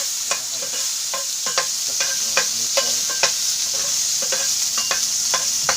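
Garlic fries in hot oil with a bright, steady sizzle, overlaid by a regular series of light ladle or spatula taps against the pan, close by.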